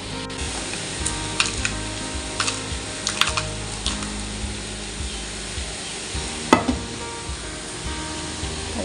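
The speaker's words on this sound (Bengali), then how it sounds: "আর এদিকে পেঁয়াজটা ভাজা চলছে আমার, এখনো খানিকটা টাইম লাগবে" Onions frying in a pan for chicken biryani give off a steady, close sizzle with scattered light ticks and crackles throughout, with no talking.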